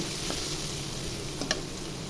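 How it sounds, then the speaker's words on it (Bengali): Chopped onions frying in hot oil after cumin seeds, a soft steady sizzle with a couple of faint clicks of a utensil, heard alone without talk. "পেঁয়াজগুলো ভেজে নিব।"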